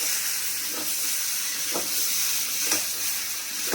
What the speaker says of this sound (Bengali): এদিকে তো বেগুন পোড়া হচ্ছে।